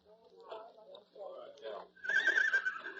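A horse whinnies at a rodeo corral in an old-time radio drama, a rising, wavering neigh that ends the stretch after a voice talks over quiet background.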